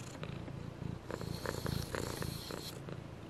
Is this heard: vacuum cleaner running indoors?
no